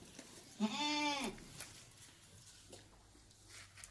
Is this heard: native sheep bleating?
yes